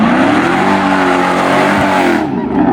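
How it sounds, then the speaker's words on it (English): A car at a street takeover does a burnout, loud and close, its engine roaring at high revs with sustained tire squeal and a rough gritty hiss before the sound abruptly cuts back near the end. "Bro finna do a burnout."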